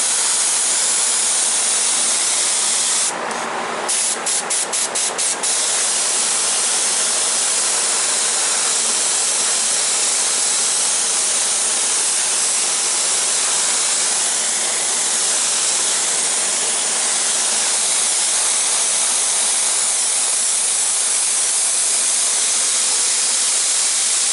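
A spray gun blasts gelcoat onto a new jet boat hull, a loud continuous hiss that runs almost unbroken, with a brief sputtering burst near the start.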